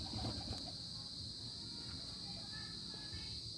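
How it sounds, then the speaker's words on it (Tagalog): A racing pigeon calls faintly in the distance over a steady outdoor hiss and a high insect-like drone, with no voices. "Ibon."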